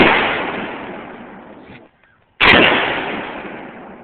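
Two sharp 30-30 rifle shots ring out outdoors, each a loud crack followed by a long decaying echo, separated by a short silence.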